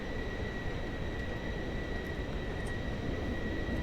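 A Pilatus PC-24 business jet taxis in the Microsoft Flight Simulator game in harsh weather at Toronto, giving a steady, loud engine roar with a constant high whine, unbroken and without speech.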